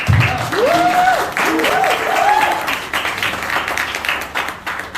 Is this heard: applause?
yes